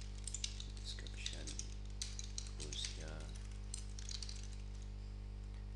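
Light, scattered keystrokes on a computer keyboard, faint and intermittent over a constant low hum, with quiet talking mixed in.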